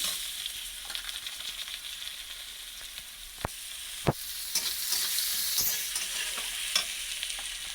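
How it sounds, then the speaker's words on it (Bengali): Onion frying in oil with black cumin in a pan, a soft continuous sizzle with occasional spoon scrapes and two sharp knocks against the pan, steady and fairly quiet throughout. "এগুলোকে ভালো করে লাল লাল করে ভেজে নেব।"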